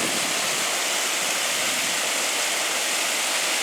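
Floodwater rushes through a break in a temporary dam at the Ozark Mill after heavy rains, a steady, loud broadband roar of churning water with no pauses and no talk.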